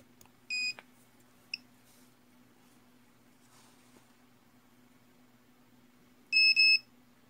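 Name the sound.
electronics tester beeping on a short circuit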